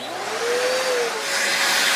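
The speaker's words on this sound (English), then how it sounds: "start your vacuum." A vacuum cleaner runs at a steady, loud, close whine, its pitch bending up and down slightly and holding for the whole stretch.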